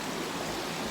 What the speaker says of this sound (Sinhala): ඉහළ තියෙන කඩුවැටකින් තමයි වතුර පාර ගලාගෙන එන්නේ.